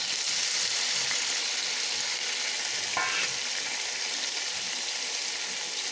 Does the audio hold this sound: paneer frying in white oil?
yes